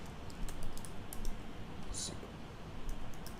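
Code is typed on a computer keyboard in a C# Windows Forms tutorial, a close run of soft rapid key clicks in uneven bursts with a few sharper taps, over faint background hiss.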